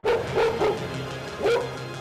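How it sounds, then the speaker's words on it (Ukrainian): A dog barks behind a fence, several sharp barks in an uneven rhythm at moderate distance, clear against a quiet background. "за паркеном потрібного нам будинку чути лише собаку"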